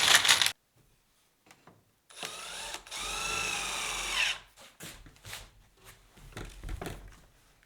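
A cordless drill drives screws through pocket holes into a plywood bottom, giving a couple of short whirring bursts separated by quiet pauses and followed by light knocks and handling sounds nearby.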